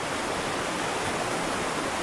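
A large river surging out from underground below mountain meadows along the Alexandra and Castleguard, a loud, constant, broadband rush of water close by, with no other sounds.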